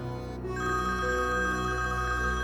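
A mobile phone rings with a steady electronic tone, repeated and sustained at moderate volume in a quiet indoor room, with no talking over it.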